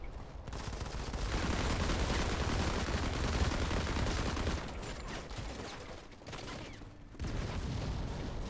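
Sustained, loud video game gunfire and explosive booms in the mobile shooter Modern Combat 5, rapid bursts and fusillades overlapping densely with brief lulls, no voices.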